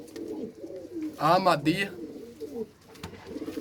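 Kasuri pigeons, a red pair kept with other pigeons in a loft, give a soft throaty coo near the middle, with faint cooing and bird movement around it while someone talks quietly.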